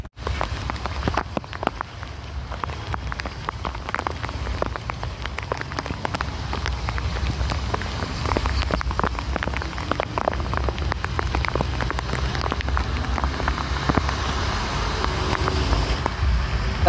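Heavy monsoon rain pours steadily over Ajmer, a dense continuous roar of drops hitting surfaces with faint traffic underneath, loud and unbroken throughout.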